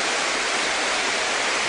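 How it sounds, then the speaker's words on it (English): Waterfall on Mount Bartle Frere in a Queensland rainforest, a dense, steady roar of rushing water, close and loud throughout with no gaps. "you've got to climb up alongside this waterfall"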